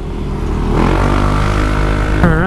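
A Yamaha Mio i125 scooter fitted with a Speedtuner CVT pulls away hard, its engine drone climbing steadily in pitch. Close and loud, it surges again near the end.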